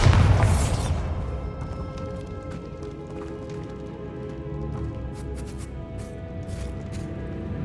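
Bombarda spell blast in the video game Hogwarts Legacy: a loud, deep boom at the start that rolls off into a long rumbling decay, with scattered debris clatter and ambient game sound afterward.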